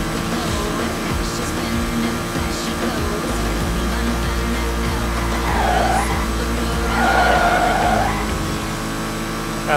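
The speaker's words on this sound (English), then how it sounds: "We're gonna be drifting on the sand" Car drifting across sand in the Fast and Furious Showdown racing game, a continuous engine drone with tire skid and squeal swelling louder partway through, steady and close with no talk.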